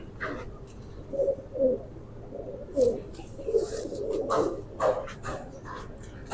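Soft, throaty cooing from a young Mamdin pigeon sounds in short bursts at close range, with occasional sharp noises and faint background sounds mixed in.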